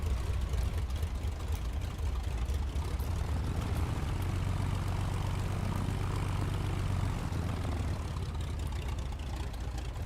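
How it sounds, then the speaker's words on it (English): A Junkers F 13 aircraft's propeller engine runs at a steady idle close by, a rough continuous drone with a low throbbing hum that swells slightly partway through. "And the engine sound is also different than the Replica one"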